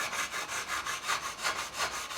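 A metal file smoothing the frets on an ESP Ltd EC-1000 electric guitar, removing burrs with about seven steady back-and-forth rasping strokes in a regular rhythm, close and fairly loud, with no talking.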